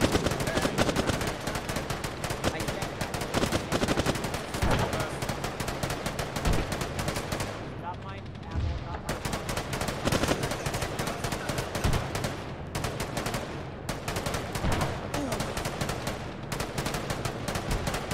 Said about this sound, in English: they're firing into the smoke! Fire into the smoke!